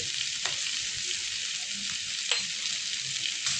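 Chili powder goes into sauce in a hot pan over low gas, and a steady, bright sizzle hisses continuously. There are a few faint clicks of stirring, and no one speaks.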